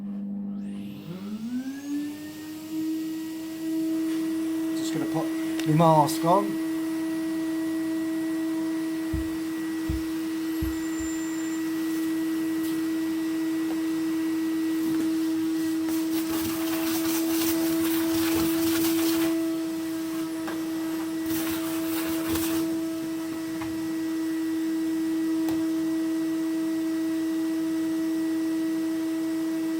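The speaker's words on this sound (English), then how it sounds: "So the hoover's going on now." A vacuum cleaner spins up and then runs with a steady high whine and whir for a long stretch while a wood burner is swept, with brief clanks of handling and a short remark in the room.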